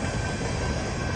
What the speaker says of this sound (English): there is another train coming